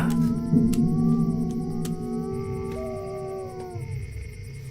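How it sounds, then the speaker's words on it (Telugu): A dog lets out a long, eerie howl with wavering, sliding pitch, drawn out over several seconds and heard on its own, in a Telugu film climax scene. "కుక్క ఏదో విచిత్రంగా మురుగుతోందయ్యా"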